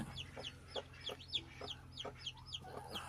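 A hen sitting on two remaining eggs with four newly hatched chicks clucks in a steady series of soft, close calls, with faint higher chick peeps mixed in.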